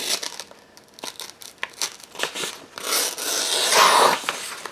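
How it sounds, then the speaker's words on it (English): A Spyderco Delica 4 knife blade drags and tugs through paper, close by, making a run of scratchy tearing rasps that build into a louder rough drag toward the end. "And it'll manage to tug on paper a bit."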